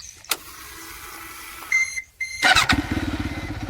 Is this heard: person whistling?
no